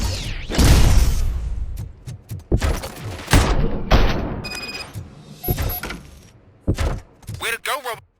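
Gunfire in the Robocop video game, repeated loud bursts and booming blasts over several seconds with short gaps, mixed with other game effects and a voice speaking.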